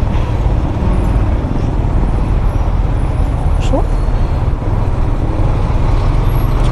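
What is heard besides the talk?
road traffic with buses and trucks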